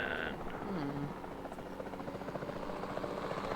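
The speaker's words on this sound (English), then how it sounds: "Then the sensible thing is to take a capture team helicopter." A capture team helicopter in a dinosaur video game whirs with a steady, rapid rotor pulse that holds throughout, loud and close, with a brief higher tone near the start.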